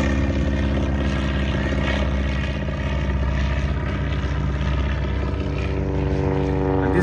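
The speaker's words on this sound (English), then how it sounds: "That's the spirit of St. Louis aircraft." The Spirit of St. Louis propeller aircraft drones steadily overhead at the 2023 Oshkosh airshow, a loud, continuous buzzing engine note that holds nearly constant throughout.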